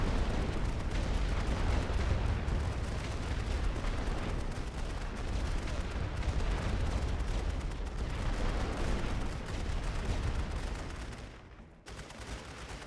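Dense artillery and gunfire rumble nonstop across a World War 1 battlefield in a strategy game, forming a loud, heavy wall of blasts and crackling shots that drops briefly near the end.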